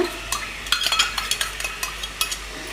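Ginger garlic paste being stirred in a pan for a jackfruit white kurma, with quick scraping and clinking of a spoon against the pan and a faint sizzle underneath.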